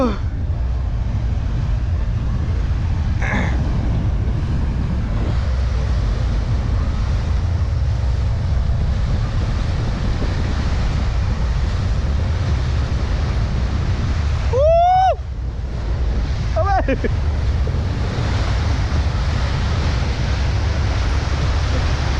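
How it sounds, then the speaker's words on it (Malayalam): Strong wind roars and buffets the microphone continuously on a road trip in Goa, with a couple of brief whistling chirps cutting through the rushing noise. "കാറ്റ് പിടിക്കുന്നുണ്ട്"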